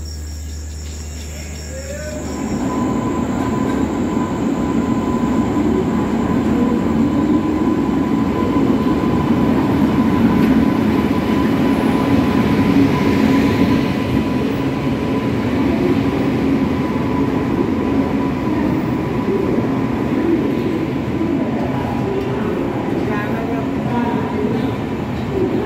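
The Yesvantpur Indore Express rolls in at a station platform with a steady loud rumble that starts after a brief quieter stretch and continues unbroken, a faint tonal whine running through it.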